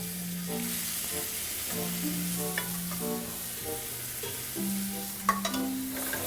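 Steady sizzling and crackling of shrimp frying in a hot pan for shrimp and grits, with occasional sharp pops and scraping of a utensil, no talking.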